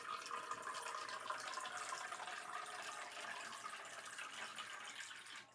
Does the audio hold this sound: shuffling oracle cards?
no